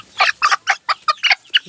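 Sonali Classic chickens, 35 days old, on a poultry farm, giving a run of about eight close, loud, evenly spaced clucks in quick succession with quiet gaps between them.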